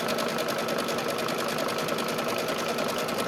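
Embroidery machine running a straight stitch on a quilted basket in the hoop: a continuous, fast, even mechanical chatter, close and fairly loud, steady throughout with no pauses.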